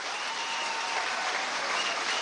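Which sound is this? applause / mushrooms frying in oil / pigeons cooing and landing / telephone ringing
applause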